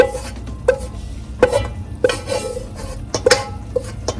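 Cooked ground pork for larb being scooped into a bowl, with repeated spoon scrapes and clinks against the dish at an uneven pace, close and fairly loud.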